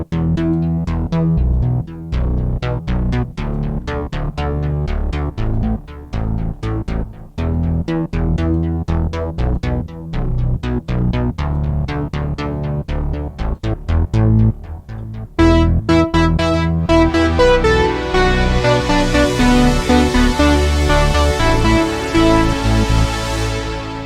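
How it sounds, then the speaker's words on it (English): Cherry Audio Chroma synthesizer sequence bass, a steady pulsing run of rapid repeated notes that thickens into a brighter, buzzier sustained texture partway through, loud and continuous with no voices. "And then underneath we have the Chroma sequence bass."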